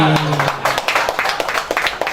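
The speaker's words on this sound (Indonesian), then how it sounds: "tepuk tangan untuk kita semua sekali lagi" Applause breaks out among the audience at a GAPEKNAS national congress hall, a dense wash of clapping following a voice over the loudspeaker, fairly loud and steady throughout.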